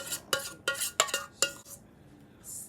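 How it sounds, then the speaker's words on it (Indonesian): A spoon knocks and scrapes against a bowl as banana bread batter is stirred by hand without a mixer, giving five sharp, close clinks spaced about every half second, then quieter scraping and a soft hiss at the end. "Jadi semua aku aduk aja."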